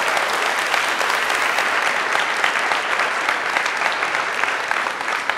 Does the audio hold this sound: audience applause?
yes